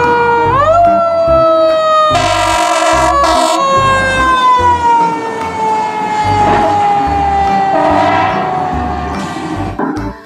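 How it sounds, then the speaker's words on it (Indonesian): A toy fire truck siren wails loudly and continuously, its electronic tone sliding down in pitch, with a few clicks and thumps along the way. "di sini ada mobil pemadam kebakaran."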